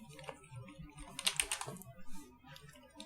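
Code being typed on a computer keyboard, a quick irregular run of soft, close key clicks with a denser burst in the middle, faint and without talk.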